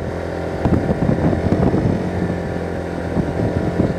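A Kymco Superdink 300 scooter fitted with a Rapid Bike module runs its engine with a steady droning hum and uneven pulses, fairly loud, with wind noise and no voices.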